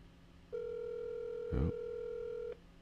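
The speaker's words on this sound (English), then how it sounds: "Is it ringing?" A telephone ringback tone sounds on an outgoing call, one steady two-second electronic tone rising from a quiet line, with a short soft voice murmur partway through.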